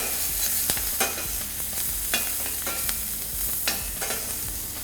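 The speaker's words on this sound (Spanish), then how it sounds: "Doramos bien la cebolla" Onion browning in a hot pan, loud continuous frying sizzle broken by repeated scraping stirs every second or so, close and without any voices.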